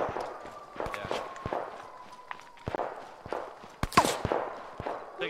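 Gunfire in a World War II squad shooter set in Operation Gunnerside: scattered sharp single shots, some distant and some nearer, with a louder crack near the four-second mark amid footsteps and movement.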